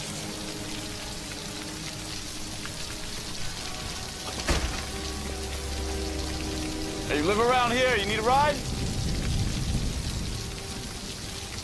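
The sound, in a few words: rain falling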